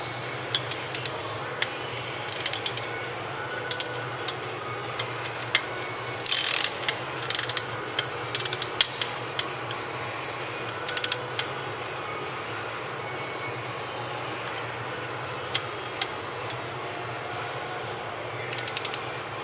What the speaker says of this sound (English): Torque these bad boys down.